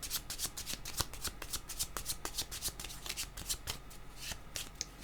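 Tarot cards are shuffled by hand in a fast, steady riffle of papery flicks and slaps close up, continuous and with no talk.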